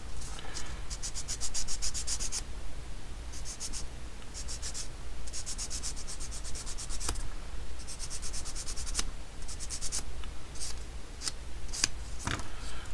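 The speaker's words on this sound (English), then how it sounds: "I'm going to sand this" Abrasive sanding on a plastic model kit part, a run of short repeated scratchy strokes in quick bursts, close and steady with brief pauses between passes, no voices.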